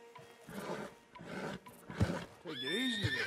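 A horse in a video game gives a loud, close, wavering whinny near the end, after a stretch of muffled game sounds and movement.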